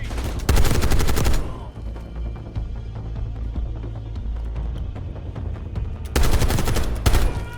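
Light machine gun fire in the Call of Duty Black Ops 6 campaign: a loud, rapid burst opens, a quieter stretch of distant shots and ambience follows, then a second heavy burst closes it.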